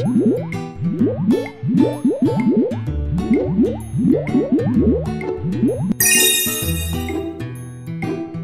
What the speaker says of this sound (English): Use the soap to make bubbles on the brush.